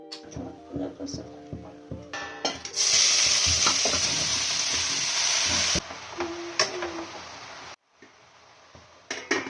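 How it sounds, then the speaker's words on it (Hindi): Grated carrots cooking in hot oil for carrot halwa: an intermittent clatter and stir at first, then a sustained loud hiss of frying for a few seconds that cuts off abruptly, followed by scattered clinks and a voice. "थोड़ा सा तेल गरम करके गाजर को मैंने इसमें डाल दिया"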